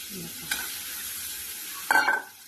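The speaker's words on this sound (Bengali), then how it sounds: "আলুগুলো দিয়ে কিছু সময় কষিয়ে নেব, সুন্দর করে কষিয়ে নেব।" Potatoes fry in spice masala in a pan, giving a steady low sizzle with two sharper stirring scrapes, one near the start and a louder one toward the end.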